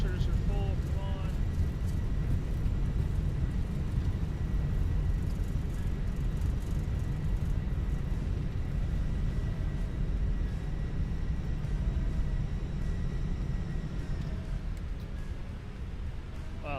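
Airbus A320 thrust reversers at full in Microsoft Flight Simulator 2024, a loud, steady low rumbling roar of engine reverse thrust that holds continuously for the whole stretch, with a faint voice briefly over it near the start.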